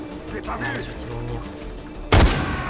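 Gunfire in the video game Far Cry 4: a sudden loud burst of shots erupts near the end, following a stretch of busy, quieter in-game ambience.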